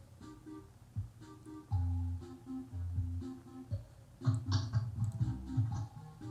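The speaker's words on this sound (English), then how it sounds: "I can hear you angrily typing with your microphone on" Computer keyboard being typed on with an open microphone, irregular quiet clicks and taps coming in bursts with short pauses, close and faint, with no voices.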